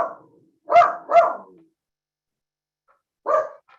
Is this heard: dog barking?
yes